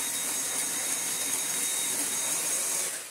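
A vacuum cleaner runs steadily with a loud, close whooshing hiss and motor drone, holding constant before starting to drop off at the very end; no voices.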